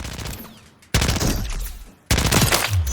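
An AMR9 rifle fires two 3-round bursts in Call of Duty: Modern Warfare III, with sharp, loud, rapid cracks in quick clusters and a short gap between the bursts.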